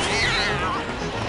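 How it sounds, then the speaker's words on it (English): In the spy video game No One Lives Forever, a cat meows loudly from inside a garbage can, one drawn-out wavering cry heard up close. "There was a cat in that garbage can."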